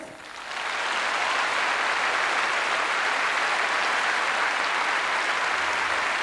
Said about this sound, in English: Applauded by champions and the unknown alike